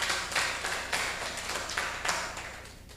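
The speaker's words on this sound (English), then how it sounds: "And I think we should give him a clap." A webinar audience claps for a speaker, a steady patter of many hands with small rhythmic surges, moderately loud and continuous with no talking.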